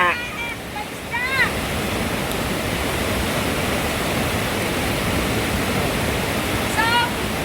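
Waterfall on Koh Kood, Thailand, in monsoon season: a loud, steady broadband rush of falling water filling the whole scene, with faint bird chirps at the start and end.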